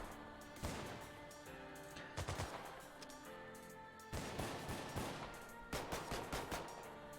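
Rapid bursts of gunfire from The Last Haven video game, several clusters of quick shots and volleys spread across the stretch, fairly steady and unbroken by talk.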